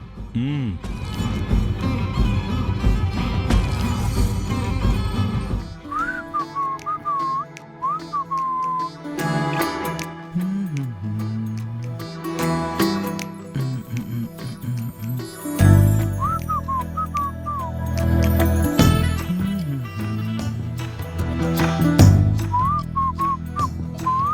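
A person whistles short melodic phrases that rise and fall, heard several times over background music in a Telugu TV drama scene.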